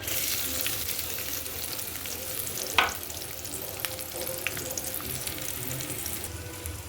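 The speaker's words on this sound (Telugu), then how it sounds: "ఉల్లిపాయలు పచ్చిమిర్చి వేయించుకుందాం" Onions and green chillies fry in hot oil in a kadai on a gas stove, giving a steady, close sizzle throughout with a sharp stirring clatter near the middle and a few lighter knocks.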